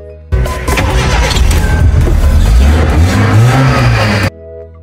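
A car engine cranks and catches after its sensor is cleaned and refitted, settling into a steady running note with a rising rev that lasts about four seconds, loud and close with no talk.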